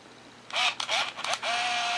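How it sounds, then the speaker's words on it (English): The shutter of an Olympus Infinity Stylus Epic DLX compact film camera firing: a quick cluster of soft mechanical clicks and whirs lasting under a second, followed by a faint steady whine, close and alone. "looking into the lens, that the shutter is activating"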